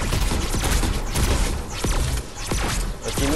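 New weapon in Fortnite firing a rapid volley, a steady dense stream of sharp repeated shots with short pauses between bursts, loud and close throughout.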